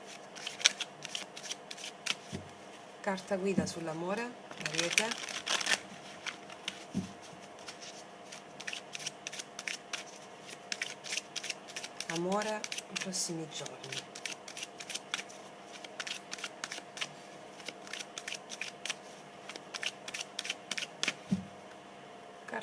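Crisp rapid shuffling of tarot cards, snapping and riffling in bursts, while someone talks quietly in Italian over it.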